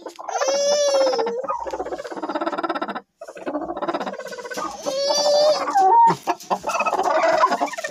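Chickens cluck and squawk close by in a busy, continuous stream, with a few higher drawn-out calls rising over the chatter.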